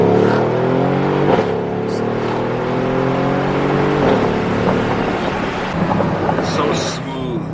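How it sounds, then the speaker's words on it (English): Straight-piped Mercedes GLE 63 AMG V8 exhaust revving hard and loud close by, a sustained rising drone broken by sharp crackling pops toward the end, with faint talk underneath. "The pop is so crispy in the AMGs, man."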